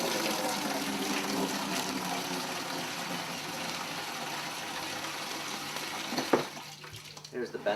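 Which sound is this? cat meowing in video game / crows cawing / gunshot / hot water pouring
hot water pouring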